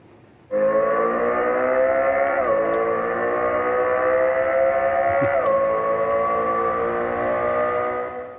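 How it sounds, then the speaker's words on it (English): A simulated Lexus LFA V10 engine note plays inside a 2027 Lexus TZ as a loud, steady, harmonic-rich drone. It dips briefly twice as gears shift and then fades at the end, with no talk. "the Lexus LFA V10 sound simulation available on demand"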